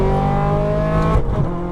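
An exotic car on a race track accelerates at full power, a loud, steady engine whine climbing in pitch, then briefly breaking near the end as it shifts or lifts.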